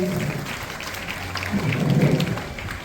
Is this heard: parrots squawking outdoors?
no